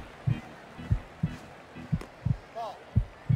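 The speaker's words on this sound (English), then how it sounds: "Y'all hear that heartbeat?" Heartbeat sound effect in the baseball video game MVP 07: NCAA Baseball, a steady thumping pulse of about six beats, moderately loud and close, with faint game background noise.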